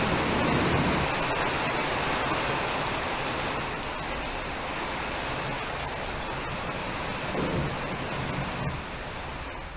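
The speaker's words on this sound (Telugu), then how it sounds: "మెరుపులతో కూడిన భారీ వర్షం కురిసింది." Heavy rain in a thunderstorm with lightning, a dense, steady roar of downpour with a broad wash of hiss throughout; a faint low rumble may be thunder, though it does not stand out. No voices.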